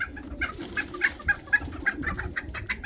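Roosters and hens clucking and calling in a pen of ornamental breeds, repeated short clucks in an irregular rhythm, fairly close and steady, with no talking.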